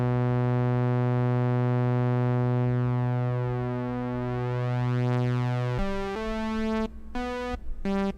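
Sustained bright tone from a Korg EMX1 synth held at a higher pitch with slow sweeping shimmer, then a few quick stepped notes near the end, close and fairly loud.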